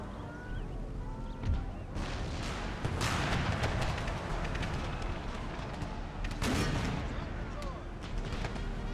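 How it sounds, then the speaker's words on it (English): Canister shot and musket volleys roar across a hillside battle in Empire: Total War, with dense rolling gunfire and louder booming bursts near the two- and six-second marks over a continuous din of battle. "Canister shot, get ready to fire."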